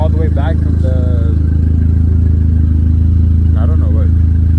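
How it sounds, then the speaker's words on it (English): An Infiniti Q50 idles through a 3-inch straight-pipe exhaust, a loud, constant deep drone close by, while someone talks briefly over it at the start and end. "3-inch modern performance exhaust, full 3-inch straight pipe all the way back"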